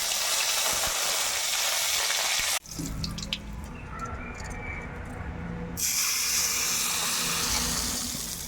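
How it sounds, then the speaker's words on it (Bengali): Curry leaves dropped into hot oil in a wok for begun kasundi, giving a loud, broad, continuous sizzle that cuts briefly to quieter crackling and then surges back. "কারি পাতাগুলো তেলে ছেড়ে দেবো"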